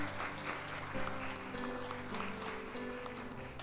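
A church congregation claps as an offering of applause during a worship service, steady dense clapping throughout, blended with sustained keyboard or organ chords underneath.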